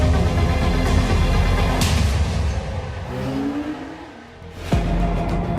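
A Porsche 911 Turbo S accelerates hard, its engine roaring loudly with rising revs, briefly easing off before surging again near the end.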